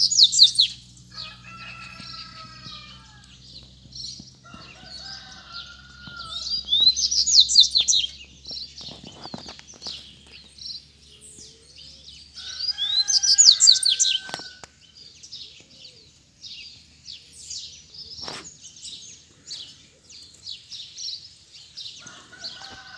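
Double-collared seedeaters, two loose and one calling as if to fight, sing in bright, rapid bursts of chirps and trills with quiet gaps between phrases, loud and close, joined by fainter calls and a few rustles.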